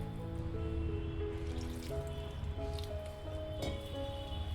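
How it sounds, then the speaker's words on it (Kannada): Wheat flour for soft layered North Karnataka chapati is mixed by hand with water added little by little, giving faint wet squishing and small drips under a steady tonal background. "ಇವಾಗ ಸ್ವಲ್ಪ ಸ್ವಲ್ಪನೇ ನೀರು ಹಾಕ್ಕೊಂಡು ಇಲ್ಲಿ ನಾವು ಗೋಧಿ ಹಿಟ್ಟನ್ನು ಕಲಿಸ್ಕೋಬೇಕು"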